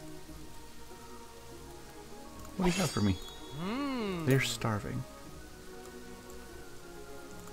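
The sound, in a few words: rain falling in the video game Kingdoms and Castles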